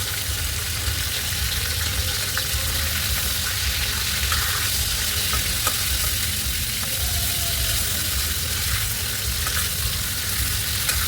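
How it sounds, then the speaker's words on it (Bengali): Marinated chicken pieces sizzling in a wok as they are stirred and turned over, an even, dense hiss that carries on without a break and without talk. "ভালো করে উল্টে পাল্টে ভেজে নিতে হবে।"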